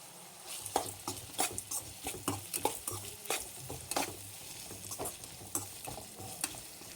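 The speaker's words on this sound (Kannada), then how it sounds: "ಈರುಳ್ಳಿನ ಒಂದ್ಸರಿ ಚೆನ್ನಾಗಿ ಮಿಕ್ಸ್ ಮಾಡಿಬಿಟ್ಟು ಅರ್ಧ ಸ್ಪೂನು ಉಪ್ಪು ಹಾಕ್ತಾಯಿದ್ದೀನಿ" Chopped onions with salt being stirred in a frying pan, a steady run of close spoon scrapes and taps over a soft continuous sizzle, moderately quiet.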